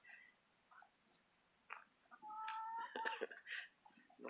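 Chickens clucking and chattering at low volume, with a few short squawks and calls rising toward the end.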